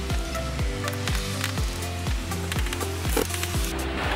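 Screws going into a caravan awning light fitting with a cordless driver, a steady run of rhythmic whirring bursts and ratcheting clicks, close and fairly loud, with no talk.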